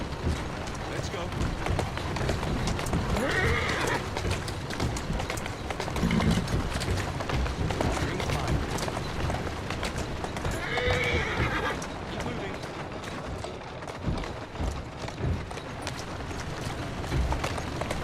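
A horse in Assassin's Creed Syndicate, set in Victorian London, whinnies loudly twice and clip-clops at a run over a dense game soundtrack, with a voice speaking at points.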